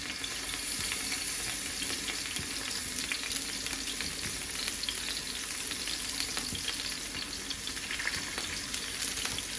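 Fish frying in hot oil in a pan, a steady loud crackling sizzle with dense popping throughout, no voices.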